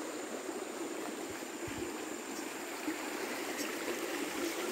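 A mountain stream flowing fast after a flood, its banks swept and grass flattened: a steady, broad rushing of water close by, constant throughout with no voices.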